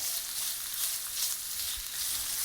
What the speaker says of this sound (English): a light saute, and into that goes one humongously large red onion sliced up